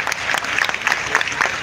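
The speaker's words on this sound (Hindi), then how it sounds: "जोरदार तालियां इन बच्चों के लिए।" Short burst of audience clapping for children who danced at the Amrit Bharat Shivanarayanpur railway station event, loud and close with distinct individual claps.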